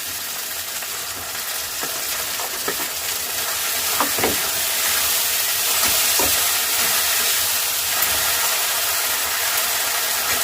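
Tomato dropped into a pan of frying ginger, a loud continuous sizzle and hiss with a few sharp crackles and stirring clinks, no voices.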